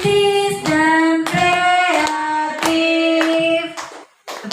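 A group of people clap their hands in a classroom gathering, bursts of claps mixed with voices singing along in a rhythmic pattern, fairly close and lively.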